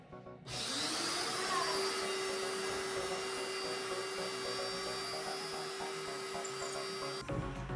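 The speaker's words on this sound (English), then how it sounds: "And I can drill it. Do a little pilot." A power drill bores a pilot hole during a mountain cottage makeover, spinning up abruptly into a loud steady whine that holds for about seven seconds before cutting off.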